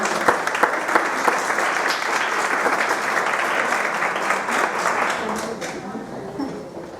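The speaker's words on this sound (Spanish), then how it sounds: "Quiero pedirles un fuerte aplauso" An audience at a talk on the medical benefits of Nikken products gives loud, sustained applause to welcome a doctor, dense clapping that fades out near the end, with some voices underneath.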